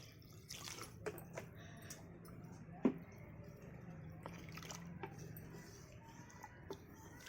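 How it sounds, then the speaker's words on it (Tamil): Water poured into a pan of egg gravy masala, faint, quiet trickling with scattered drips and splashes, one slightly louder splash partway through, with no talking. "இப்போ வந்து நமக்கு தண்ணி கொஞ்சம் ஊற்றிக்கலாம்"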